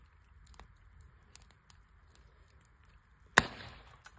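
Bullet cartridges thrown into a fire cooking off, with a quiet stretch of faint crackling and small ticks followed by a single sharp, loud pop and a brief decaying burst of noise.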